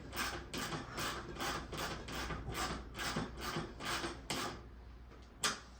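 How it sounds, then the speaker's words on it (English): A wrench ratcheting an axle nut tight on carbon fiber landing gear for a Laser 200 model plane, giving a rapid run of evenly spaced clicking strokes, then a pause and one last click, close and quiet. "go ahead and tighten down your axle nut all the way"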